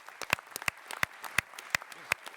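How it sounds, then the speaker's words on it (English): Audience at a 2nd Congressional District GOP debate at a college gives a brief, sparse round of applause, a handful of crisp, faint claps in quick succession. "I want to give you all a round of applause for being here tonight."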